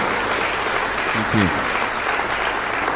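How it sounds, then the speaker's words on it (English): A live-stream audience gives steady applause, a dense continuous patter of clapping, with a brief voice breaking through midway. "the applause is good"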